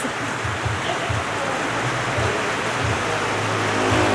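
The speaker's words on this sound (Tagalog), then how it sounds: "So ito po yung ambon ng Batangas guys." Heavy typhoon rain in Batangas pours in a steady, dense roar with no letup, a broad continuous wash of water close around, with no voices over it.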